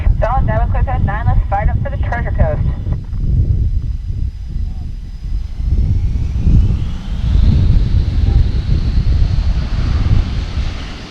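A brief radio voice gives way to a loud, rumbling jet engine roar from a US Navy Blue Angels jet at an air show, swelling and building steadily as it powers up for takeoff.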